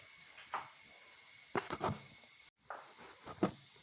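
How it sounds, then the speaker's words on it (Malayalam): A cook blows air through a tube into a wood cooking fire to make it burn well. Three soft, breathy puffs come at spaced intervals, faint and close, with no talking. "തീ നന്നായിട്ട് കത്താൻ വേണ്ടി നമുക്ക് ഇതുപോലൊരു കുഴലിൽ വെച്ച് ഊതി കൊടുക്കാം"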